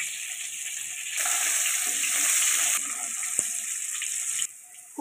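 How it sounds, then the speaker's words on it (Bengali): Cut pumpkin pieces seasoned with salt and turmeric sizzle in hot oil in a pan, a steady loud hiss that swells for a few seconds, then eases, with a single soft knock partway through. "ওই তেলের মধ্যেই কেটে রাখা কুমড়োগুলো দিয়ে দিচ্ছি"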